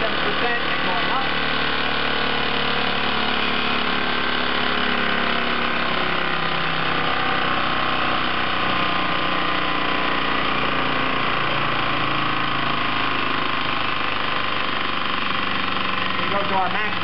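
A small engine runs steadily under load on a Focus Applied desktop dynamometer, a close, constant buzzing drone for the whole stretch, with a voice speaking over it.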